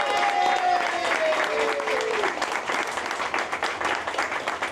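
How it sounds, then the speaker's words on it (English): Outdoor crowd at a Bike to Work Day event applauding a team: dense, sustained clapping with a brief rising and falling whoop near the start, loud and continuous throughout. "Let's give them a round of applause."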